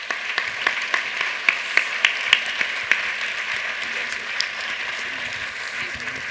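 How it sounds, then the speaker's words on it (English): Audience applause for a school choice discussion panel: a thin, moderately distant patter of clapping with a few sharper individual claps early on, holding steady for about six seconds. "please give them a round of applause"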